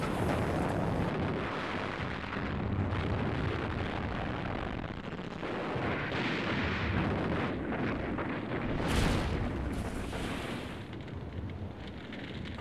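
Dense, continuous battle noise from a WWII tank fight in the North African desert, with explosions and artillery-like blasts rumbling steadily throughout and a sharper burst near the end, no talking.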